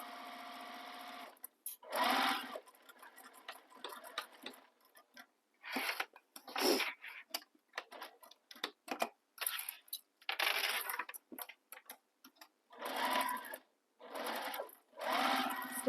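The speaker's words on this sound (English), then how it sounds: "Stitching across the top now." A sewing machine stitches across the top of a crossbody bag, running in quick close bursts separated by short pauses.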